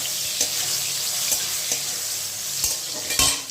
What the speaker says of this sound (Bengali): বেগুনটাকে আমি এইভাবে লাল করে ভেজে নিয়েছি